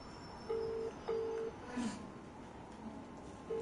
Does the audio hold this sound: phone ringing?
yes